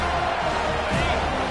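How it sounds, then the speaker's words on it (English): A stadium crowd at a football game roars loudly and continuously, a dense wash of cheering with no gaps. "This crowd rising up, sensing that his defense needs some help."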